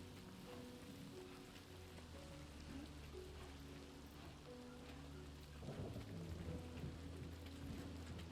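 Rain falling in the video game Death Stranding 2, a steady dense downpour pattering on surfaces with low rolling thunder rumbling underneath, swelling into a louder burst near the end, no talking.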